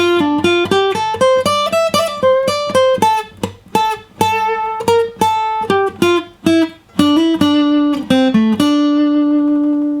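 An acoustic guitar picks out the third phrase of an unplugged solo, a longer melodic line of crisp single notes with slides and brief pauses, closing on a sustained note left ringing alone.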